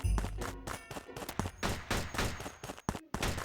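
Rapid bursts of video game gunfire crackle loudly and continuously, sharp repeated shots with brief gaps, like an intense firefight.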